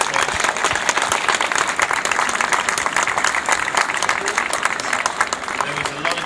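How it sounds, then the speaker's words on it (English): Dense, sustained applause from a seated audience after a beauty photography talk at a photography trade show, loud and steady throughout with no voices over it. "can we please give Lara Jade a massive round of applause?"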